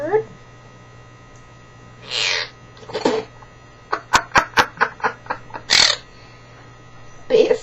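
A quaker parrot mimics a seagull call with several short squawks and a run of sharp, rapid cries over a steady background hum, alone without talk.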